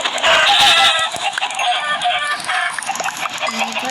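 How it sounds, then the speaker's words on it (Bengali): Chickens cluck in a mining-and-crafting video game, a burst of bright, close clucks over continuous game sounds lasting a few seconds. "মুরগি মেরে নিয়ে খাবার নিচ্ছি"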